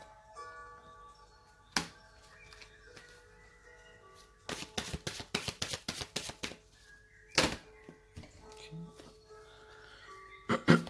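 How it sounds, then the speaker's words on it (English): A Deviant Moon tarot deck shuffled by hand: soft papery riffles and snaps, with a dense burst of rapid clicking card flutter in the middle and scattered taps around it, close and moderately loud, with faint background tones. "Don't know what to say when I'm just shuffling."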